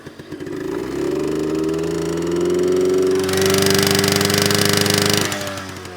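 A 1980 Yamaha Towny two-stroke scooter engine runs in start mode, a steady, reluctant buzzing drone that swells louder and raspier midway, then eases back near the end.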